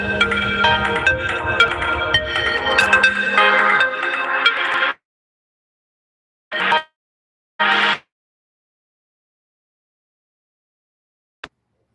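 A phone ringtone plays a melodic tune loudly for several seconds, stops, then sounds in two short bursts before silence, with a faint tick near the end.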